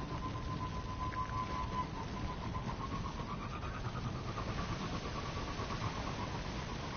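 A Sparrow hover vehicle from the Destiny video game runs at a steady idle, a continuous mid-pitched engine hum with a faint whine that drifts slightly in pitch, holding even and constant with no speech.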